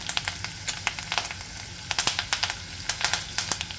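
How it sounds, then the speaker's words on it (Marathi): Garlic and curry leaves sizzle in hot oil in a pan, a steady close frying hiss broken by quick sharp crackles and pops. "लसूण टाकते आहे लसूण आपल्याला गोल्डन ब्राऊन कलरचा होऊ द्यायचा आहे कढीपत्ता टाकते आहे"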